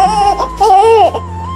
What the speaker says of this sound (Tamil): பால் இல்லாதால வந்து குழந்தைகள் வந்து கத்துறாங்க.